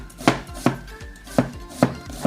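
A Santoku knife slices through an onion into very thin slices, giving five crisp, evenly spaced cuts that each end in a thump on the board, close and alone.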